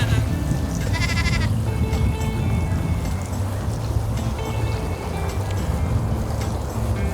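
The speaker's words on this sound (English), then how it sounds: "There's a goat!" Goat bleating on a farm among other animals, a short wavering call standing out near the start over a steady, busy background of noise and movement, with faint voices around.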